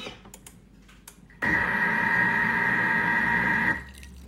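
Water is poured gradually into naan dough mixing in a Thermomix, a steady close trickling rush lasting a couple of seconds after a few light taps.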